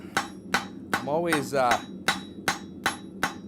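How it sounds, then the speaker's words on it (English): Blacksmith's hammer striking steel cloak pins on an anvil, a steady series of sharp metallic clangs about every half second, with a brief ringing, sliding tone in between and a few spoken words. "angle my hammer all too much to cause mishits on my anvil"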